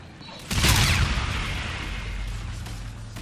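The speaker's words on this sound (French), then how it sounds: "j'envoie une grenade" Grenade explosion in Call of Duty Infinite Warfare zombies mode: a sudden loud boom with a long rumbling tail over game noise.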